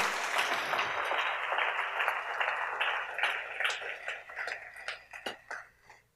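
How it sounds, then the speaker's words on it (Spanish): A church congregation bursts into applause during a Spanish-language sermon, a dense wash of clapping that thins into scattered individual claps toward the end. "Denle ese aplauso al Rey en esta hermosa tarde."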